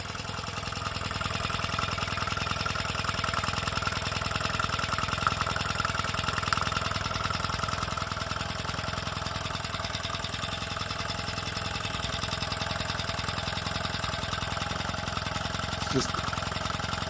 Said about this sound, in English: The engine sounds absolutely fantastic working under a load.